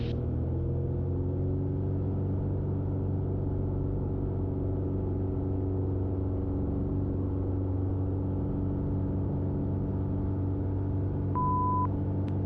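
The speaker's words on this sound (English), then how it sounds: "Beautiful takeoff." Small single-engine airplane at full power on its takeoff roll, a steady, loud droning engine hum with a constant rumble throughout and no speech.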